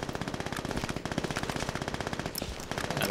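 Rapid machine gun fire in the shooter game Brink, a steady unbroken stream of sharp bursts at an even fast rhythm, loud and close with no talk.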